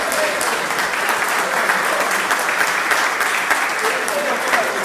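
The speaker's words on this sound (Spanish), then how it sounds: "¿Qué te parece si brindamos un fuerte aplauso en homenaje a todos ellos?" A gathering applauds as a tribute during a special Journalist's Day event in Villa Ángela, with steady, dense clapping that holds at an even level throughout and no clear speech.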